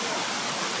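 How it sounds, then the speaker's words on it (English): Waterfall at a hotel pool in Pigeon Forge, a dense steady rushing wash of falling water, loud and continuous through the short moment with no voices. "it has a waterfall and there's people in it."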